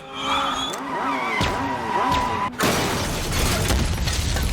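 A film car crash and explosion: a roaring engine runs under twisting metallic scrapes, then a sudden loud burst gives way to dense crackling debris and rumble, all loud and close.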